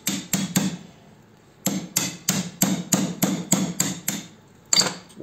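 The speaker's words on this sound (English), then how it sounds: "get the hammer," A hammer strikes a chisel wedged into a fluorescent light transformer ballast: three quick metallic blows, a pause, then a run of about ten sharp, evenly spaced hits, loud and close.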